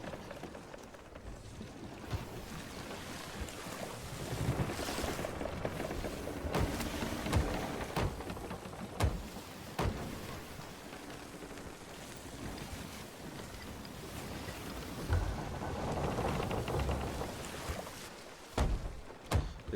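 Sailing ship with its sails opened in the pirate game Sea of Thieves: a steady rush of wind and sea spray with creaking and lapping waves, continuous and fairly loud, no voices.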